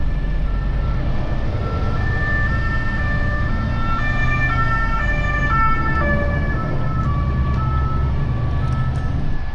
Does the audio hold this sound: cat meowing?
no